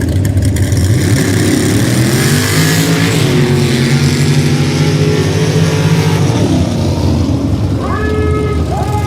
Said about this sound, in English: Truly a fast truck right here.